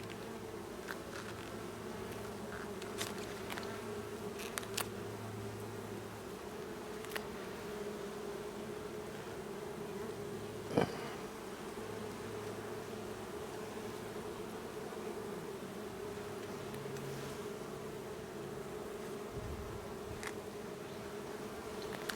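Honeybees hum in a steady, low drone around an open hive during a September inspection, with a few individual bees buzzing closer past the microphone; no one speaks.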